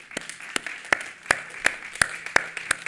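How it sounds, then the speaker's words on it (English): Sparse clapping from a small audience thanking a career-mentoring panel, distinct individual claps in a fairly even rhythm over a quiet room. "please join me in a round of applause"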